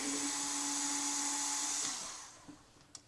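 A cheap cordless lithium-ion drill whines steadily while backing out screws from a computer case, then winds down and stops, followed by a couple of faint clicks.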